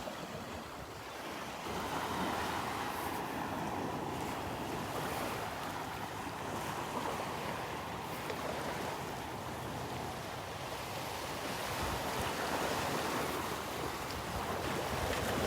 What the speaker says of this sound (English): Not much in the way of wave action.